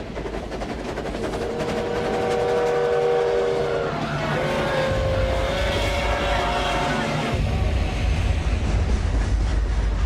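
A train carrying prisoners to concentration camps rumbles steadily past in a wartime documentary setting, a loud continuous mechanical roar with tonal whining that shifts pitch and a deepening low rumble toward the end.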